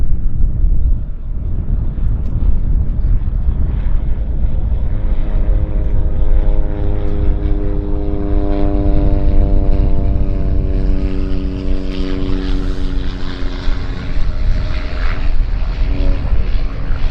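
A Cessna Caravan turboprop taking off at Vancouver airport, its steady propeller drone loud and sustained throughout, rising slightly in pitch with a faint Doppler shift as it climbs past under light wind noise.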